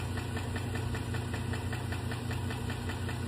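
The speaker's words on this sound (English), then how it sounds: "But do you want your engine sounding like this?" A GM vehicle's engine runs with a steady, rapid knocking tick over a continuous droning hum, close and fairly loud, with no one speaking.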